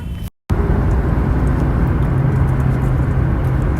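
A car drives through heavy road traffic near Kalindi Kunj during office hours, with a loud, steady broadband rumble of engines and road noise after a brief cut near the start.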